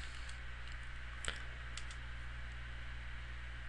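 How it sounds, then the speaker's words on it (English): Keys on a computer keyboard are tapped in a short run of quiet, close clicks, with one sharper keystroke near the middle over a steady electrical hum. "So we type the following"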